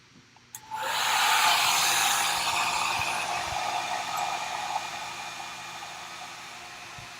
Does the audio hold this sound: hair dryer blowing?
yes